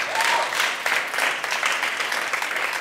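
An audience claps for a quiz show team, giving a dense, steady burst of applause that stays loud and even from start to end.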